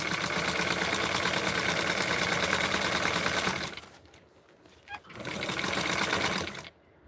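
Sewing machine stitching a small doll shirt, a steady fast whirring hum that runs continuously, pauses briefly in the middle with a faint click, then resumes before stopping near the end.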